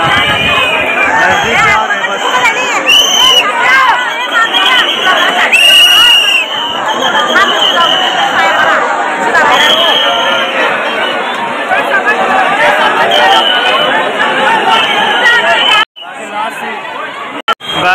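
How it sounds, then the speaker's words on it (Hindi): A dense crowd chatters and calls out at the Lalbaugcha Raja festival at night, loud and continuous babble with scattered shouts close around. "बाकी गाइस भीड़ देखो यार, नजदीक से आ रहे बस"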